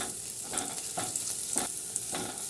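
Chopped green chillies, ginger and garlic sizzle softly in butter in a pan, with a quiet continuous fry broken by several stirring scrapes at a regular pace, and no voices.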